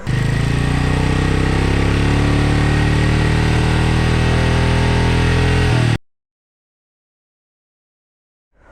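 A steady Royal Enfield Meteor 350 motorcycle engine idles loudly and evenly for about six seconds, then cuts off abruptly into silence.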